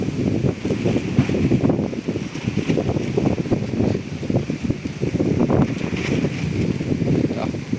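Wind gusts outdoors at a boat building site, rushing in a steady, full buffet against the microphone that keeps up for the whole stretch.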